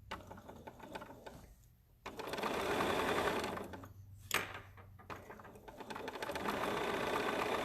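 A sewing machine stitches a pleated batik fabric face mask, running in sustained loud bursts with brief pauses between seams and a short mechanical clack midway.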